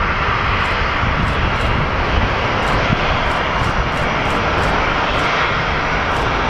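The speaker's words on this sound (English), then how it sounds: "It's a Boeing 767." A Boeing 767 jet roars loudly at an airport, a steady, close, broadband engine rush that holds its level throughout with no voices.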